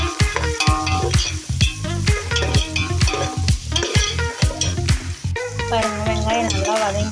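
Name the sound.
onions and green chillies frying while being stirred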